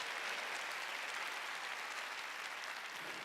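Church congregation clapping in steady, dense applause during a Korean sermon, a continuous wash of many hands at moderate distance with no talking over it.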